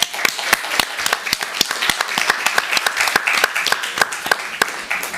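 A crowd at a Burbank city council meeting claps for new board and commission members, bright overlapping handclaps with a few sharp standout claps, sustained throughout and gradually thinning.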